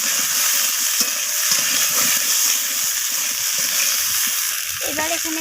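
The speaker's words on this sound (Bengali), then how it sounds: "আদা বাটাটা দিয়ে আমি আবারও নাড়াচাড়া করে সবজির সাথে এইভাবে কষিয়ে নিচ্ছি" Vegetables frying with ginger paste in a pan, stirred steadily: a continuous loud sizzle with scraping and stirring noises throughout, no talking.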